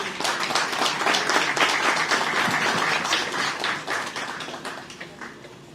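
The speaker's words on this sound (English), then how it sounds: "let's give another round of applause for all our awards" An award ceremony audience gives a round of applause, a broad wash of clapping that holds steady for several seconds and then gradually thins and fades.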